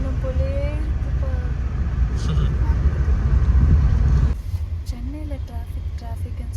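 Dense road traffic in Bangalore gives a steady, loud low rumble of engines, with voices talking over it and the level dropping slightly toward the end.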